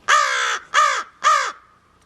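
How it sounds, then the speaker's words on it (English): A crow caws three times, loud and close, each harsh call evenly spaced about half a second apart, then silence. "Now that's Cherry the crow there."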